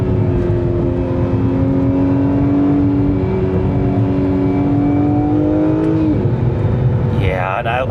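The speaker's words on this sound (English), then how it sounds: "I really like this downpipe and titanium exhaust setup. It sounds good. It sounds exotic." An Acura NSX Type-S with a downpipe and titanium exhaust droning steadily while driving, its engine tone rising and shifting through gears, loud and close, with no talk.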